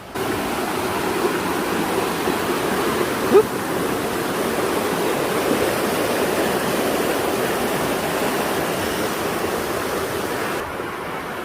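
Constant rushing water roars close by, a dense, even wash of noise from a waterfall on the Phu Soi Dao trail in Thailand that continues unbroken with no speech.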